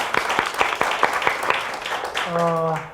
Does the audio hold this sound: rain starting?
no